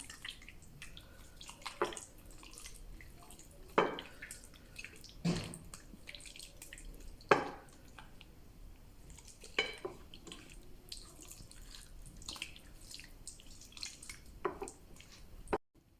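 Raw chicken, already pierced all over, is worked by hand with chermoula marinade before oven baking, giving sparse soft wet squelches and drip-like taps at irregular intervals against a quiet background, with no talking.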